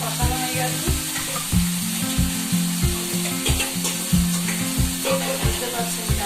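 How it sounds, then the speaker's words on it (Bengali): Spices sautéing in a frying pan for a vegetarian dish, with a steady close sizzle and repeated soft scraping knocks of stirring throughout, no voices. "মশলা কষানো হয়ে গেছে"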